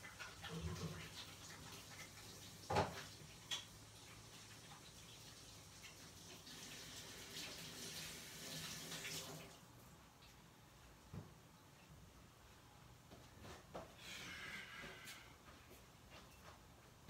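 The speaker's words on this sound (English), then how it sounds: "Just washing the hands. Had to wash them real quick, dry them off." Hands being washed under a running tap at a sink, a steady wash of running water with a few knocks and splashes, fairly faint and close by, easing off partway through.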